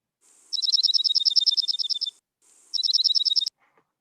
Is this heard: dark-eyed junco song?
yes